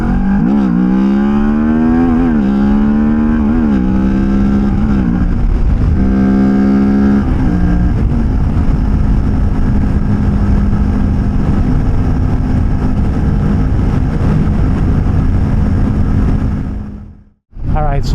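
A motorcycle engine on a speed run climbs through rising revs in several stepped pulls, then settles into a loud, steady high-rpm drone before cutting out sharply near the end; a voice talks over parts of it.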